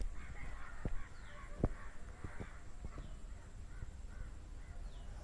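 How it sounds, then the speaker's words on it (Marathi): Distant crows caw now and then over a steady outdoor hum at evening on a Konkan farm, with a few sharp knocks nearby. "कावळे कावळे जातात तिकडे."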